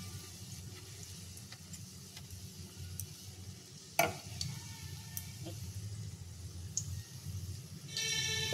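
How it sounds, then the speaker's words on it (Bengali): Besan fritters frying in hot oil for a spicy curry, a steady soft sizzle and crackle running throughout with occasional light clicks of a utensil and one sharper knock midway; no talking. "এগুলো লাল লাল করে ভেজে নেব"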